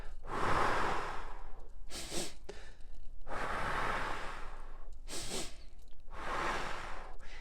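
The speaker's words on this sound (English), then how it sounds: "Breathe in twice through your nose and long out through the mouth." Controlled breathing exercise: two quick sniffs in through the nose followed by a long, airy exhale through the mouth, the whole pattern repeated about three times, close and clear with no talking.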